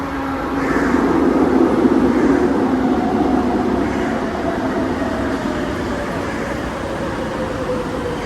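A two-coach metro train pulls into a station platform, a broad steady rumble with a rising then easing whine as it slows, close and loud with no talk.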